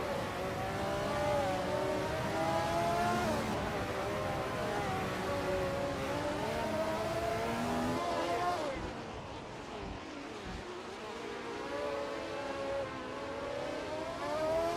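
Race cars in a video game race, engines whining and revving continuously with shifting pitch as the pack heads into the first turn, loud and steady with a brief dip partway through, a commentator's voice running over it.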